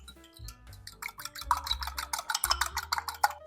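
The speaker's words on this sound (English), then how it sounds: "Mix that all up." Gingerbread batter with egg, milk and honey being stirred in a bowl, a run of quick clinking and scraping strokes from the utensil against the bowl, growing busier and more rhythmic as it goes.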